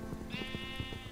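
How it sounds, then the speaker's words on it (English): A sheep in Minecraft gives one short, clear bleat midway through, fairly close and alone over quiet game background. "Oh, there's some sheep here, so I can get wool for a bed."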